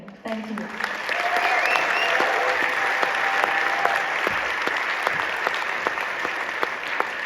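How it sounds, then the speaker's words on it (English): An audience applauds the film team at the Berlin premiere of Gangubai Kathiawadi: dense, sustained clapping starts after a second and fills the hall steadily, loud and close throughout. "Your applause."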